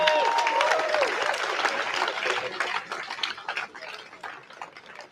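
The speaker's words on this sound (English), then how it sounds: "I think that we should give him another round of applause." A crowd at an outdoor peace demonstration applauds Scott Ritter with dense clapping that starts strong and gradually thins and fades, while a brief whistle-like tone rises over it near the start.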